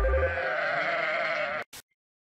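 A sheep bleats once in a long, wavering, close cry lasting over a second, followed by a brief click and silence.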